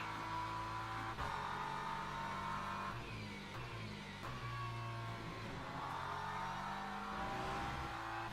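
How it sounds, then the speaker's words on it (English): A WEC race car at Silverstone drops a gear and then shifts up, the engine note stepping down and back up in a steady onboard drone, with brief shift breaks and other cars faintly around. "Just took the downshift and then the upshift just to rotate the car."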